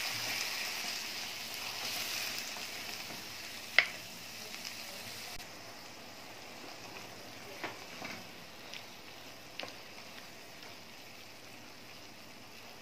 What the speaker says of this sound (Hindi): टमाटर डाल देंगे, आग तेज कर देंगे, इसको थोड़ी देर भूनेंगे, कम से कम 2 से 3 मिनट।